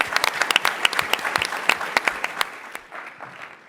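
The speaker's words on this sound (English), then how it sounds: "Round of applause." An audience at a startup competition final claps in a short burst of dense applause that fades over the last second.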